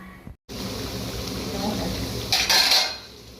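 Metal clinks and scrapes against a pot of onion chicken gravy, ending in a brighter clatter as the lid is set in place, over a steady background hiss.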